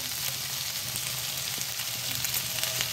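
Food frying in a pan for a Bengali fish curry, a steady, loud close sizzle with faint stirring scrapes throughout.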